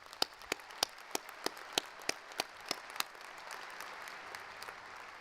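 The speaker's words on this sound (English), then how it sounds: "Let's give Claire and all our graduates a round of applause." A university commencement crowd in a dome applauds the graduates. Sharp, close individual claps beat out a quick rhythm over a dense wash of distant applause that keeps going after the near clapper stops.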